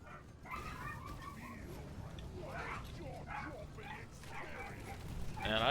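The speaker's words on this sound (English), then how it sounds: "And I wish my dogs would not bark like every second of every day sometimes." Pet dogs barking and yipping repeatedly in the background of a room, sharp bursts scattered over several seconds while someone talks over them.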